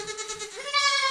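Goats on a homestead farm bleat loudly and close by in one long, wavering cry that rises in pitch partway through.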